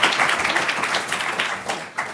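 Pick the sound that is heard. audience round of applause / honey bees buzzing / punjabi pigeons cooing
audience round of applause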